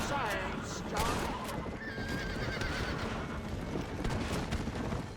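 A horse neighs loudly in the Red Dead Redemption video game, a shrill whinny followed by hoofbeats and scattered gunfire, with someone talking over the action.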